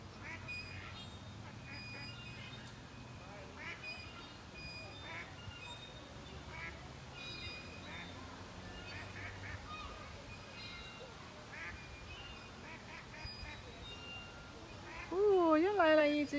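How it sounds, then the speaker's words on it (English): Ducks quack faintly and intermittently in a park under steady background ambience and speech, with a louder burst of close quacking near the end. "Here comes another duck."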